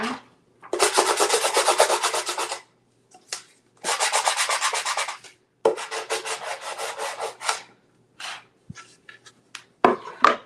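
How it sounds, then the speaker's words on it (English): Wood is sanded with a sander in rhythmic back-and-forth strokes: several bursts of close, raspy scraping separated by short pauses, ending in scattered lighter rubs. "Use a sander."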